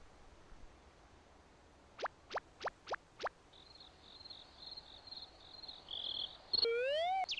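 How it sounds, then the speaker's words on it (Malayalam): A few sharp calls, then a rapid pulsing insect trill like crickets chirping, followed by higher sweeping whistles against a quiet outdoor background. "ചീവീടുകളുടെ ശബ്ദം,"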